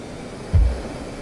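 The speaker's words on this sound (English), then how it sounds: "you can already hear they've got good ground effect. Ground rumble, just at the right amount." Jet ground rumble in the DCS flight simulator, a steady broad engine roar with one short, deep thump of low rumble partway through.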